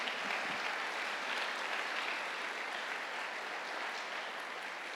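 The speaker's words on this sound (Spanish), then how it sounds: "Entonces dale un aplauso de gratitud en esta hora" A church congregation claps in gratitude, a steady, fairly soft wash of many hands heard at a distance, sustained without pause.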